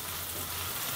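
Vegetables sizzling in a frying pan, a short burst of steady hiss and crackle, close and fairly loud, no talk.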